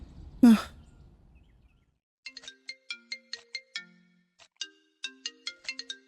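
A mobile phone ringtone plays in a movie scene: a brisk chain of bright, bell-like melodic notes repeating for several seconds after a single breathy sigh at the start.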